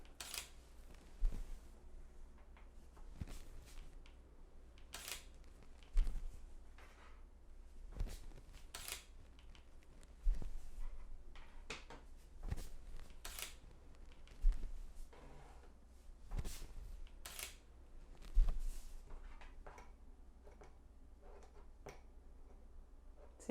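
Camera shutter clicks for frame-by-frame stop-motion shots of a pen, sharp isolated snaps spaced every few seconds over a faint steady background, with no talking.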